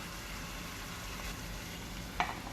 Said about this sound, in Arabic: بعد كده نزلنا بالدجاج بتاعنا ونزلنا بالملح والفلفل والكمون